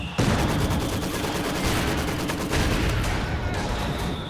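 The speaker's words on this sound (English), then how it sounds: "He's actually hitting with his own mortar, he has two mortars now. Two mortars, two machine guns." Dense, continuous battle din of mortar and machine gun fire in Company of Heroes 2, a steady rattling barrage at constant loudness with no pauses across the whole stretch.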